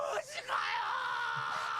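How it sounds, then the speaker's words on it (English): Screaming from a One Piece anime episode, loud and strained, running almost continuously through the moment with groan-like vocal tones under it. "Yeah, stop screaming."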